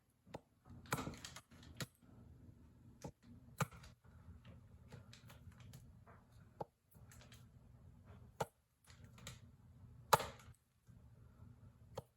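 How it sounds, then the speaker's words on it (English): A knife chops through a stick of butter into tablespoon sections, giving sharp, sparse, clicking taps against a cutting board over a faint low hum, quiet and close with irregular pauses. "we need them cut into 1 tablespoon sections. So I'm just going to give this a nice set of slices here."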